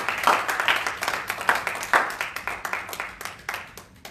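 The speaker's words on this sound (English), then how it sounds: "Let's give the Lord a hand clap." A church congregation clapping along in a steady rhythm, roughly two claps a second, lively and close, with a few voices mixed in.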